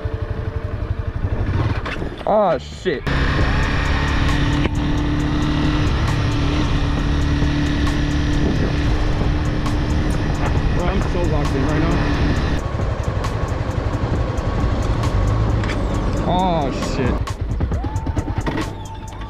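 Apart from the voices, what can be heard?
Honda CBR 300R motorcycle being ridden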